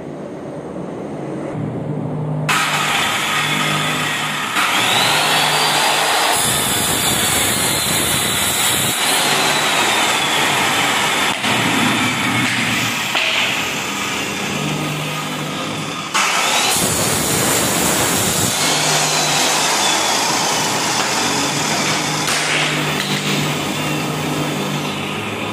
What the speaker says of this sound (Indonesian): langsung digergaji ya